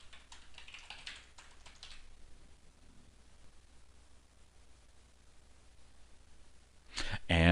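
A username and password are typed on a computer keyboard to log into a UAG 2010 portal. A quick burst of key taps comes at the start, then near-quiet, then a louder flurry of keystrokes at the end.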